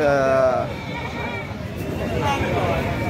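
A goat bleats loudly and close at a busy livestock market in Pabna, one wavering call at the start, then the crowd's babble and nearby voices talking continue underneath.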